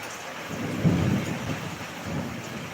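Heavy rain hisses steadily in Tirupati under a low, rolling rumble of thunder.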